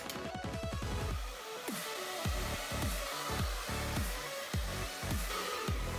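A hair dryer blows steadily and loudly throughout, heating and softening wax in a hairstyle, with repeated short tonal sweeps and rhythmic brushing or handling sounds over the continuous airflow.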